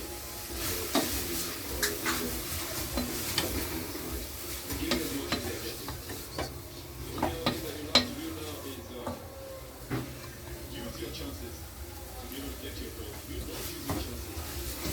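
Onions cook in oil in a pan for beef kebabs, giving a soft, steady sizzle that continues throughout, with quiet scraping stirs and light utensil taps close by.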